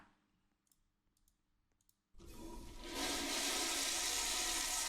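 Toilet flushing in a Roblox Skibidi toilet map: quiet faint clicks, then a sudden loud rushing flush of water that swells and fills the rest of the clip.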